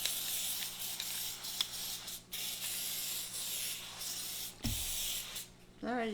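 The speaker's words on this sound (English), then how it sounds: "I'll spray it there." Several long hissing bursts of an aerosol oil spray onto an air fryer basket, close and loud, separated by brief pauses, with a short clatter and faint voice near the end.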